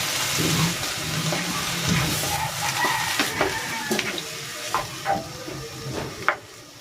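Shrimp broth made from boiled shrimp heads poured into a pot of banana heart laksa, a brief splash and sizzle followed by bubbling and scattered clinks of stirring, close and fairly loud.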